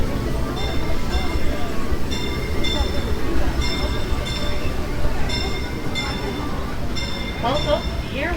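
The Disneyland Railroad train rolls toward Tomorrowland Station with a steady rumble, its rail clicks repeating at regular intervals and a few brief metallic squeals near the end, while a voice talks over it.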